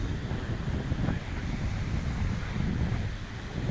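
Steady wind blowing over open sea about 400 metres offshore, at roughly 12 knots, a continuous broadband rush with wave wash and microphone buffeting, no voices.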